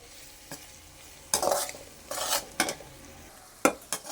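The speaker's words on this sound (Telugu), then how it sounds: "చూసారా ఇలా నీట్గా ఫ్రై చేసుకోవాలి" Grated raw mango frying in a pan over a steady sizzle, with several bursts of loud scraping and stirring from a spatula.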